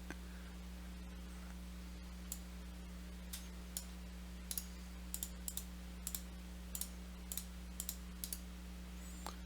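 A computer mouse clicks repeatedly and irregularly during editing work on a computer, small close taps scattered over a steady low electrical hum with no talking.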